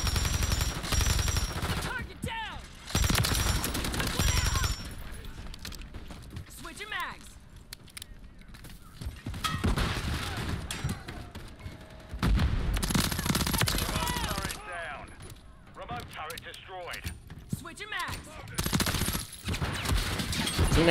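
Automatic turret fire in the video game Modern Warfare 3, heard as loud, rapid bursts of gunfire separated by short pauses, with spoken voices around the shooting.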